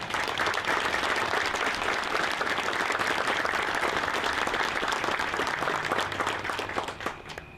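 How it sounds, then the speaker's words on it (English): A ceremony audience applauds a Marine Corps Embassy Security Group team at a change of command ceremony, with sustained, even clapping from many hands that tapers off near the end. "I'd like to offer up a round of applause for all that they do for our nation"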